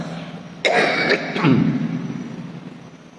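A single sharp cough bursts out during a mosque sermon, followed by a second rougher cough or throat-clearing, close and fairly loud against a steady background hum.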